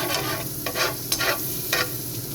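Butter sizzles in a hot frying pan with a steady crackling hiss, punctuated by a few sharp scraping stirs, close and fairly loud with no voices.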